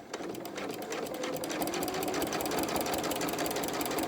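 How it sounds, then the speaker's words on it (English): A sewing machine stitching an outdoor seat cushion cover runs steadily with a fast, even mechanical chatter, close and moderately loud throughout. "when we start to sew again,"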